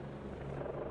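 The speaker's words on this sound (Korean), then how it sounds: "지금 들리셨는지 모르겠지만 헬기 한 대도 돌아다니면서 계속 진화 작업을 벌이고 있습니다" A firefighting helicopter circles over the smoking ruins of the Hankook Tire plant in Daejeon on the third day of a factory fire, its rotor producing a steady, fairly distant droning hum throughout.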